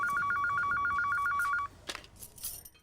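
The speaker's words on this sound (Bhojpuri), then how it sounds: "तो आ जाए दी विजय बबू के फोन, फिर हम ही फरियाले हम।" A telephone rings in a rapid, regular series of close, loud electronic trills, then stops abruptly, leaving faint rustling noise.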